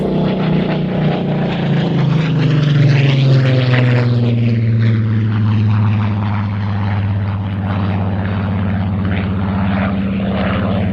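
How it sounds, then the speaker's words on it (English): A Rolls-Royce-engined Spitfire propeller aircraft drones loudly overhead near East Midlands Airport, its deep steady roar shifting slightly in pitch as it passes, with no voices. "It is that wonderful Rolls-Royce Heritage Spitfire."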